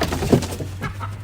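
A chicken in a farm chicken coop gives a short, close cluck or two, a brief throaty burst with no talking over it.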